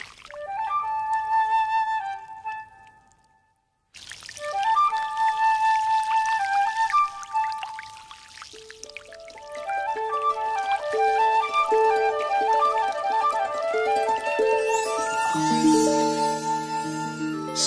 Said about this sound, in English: Felisberto Forte opens the water gate of the main basin that feeds the entire salt garden